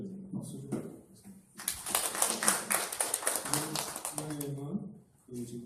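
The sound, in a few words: workshop audience applauding a speaker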